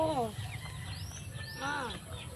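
A chicken clucks in a home garden, with two short bursts of bright, warbling calls close by, one at the start and one near the end, over a steady low rumble.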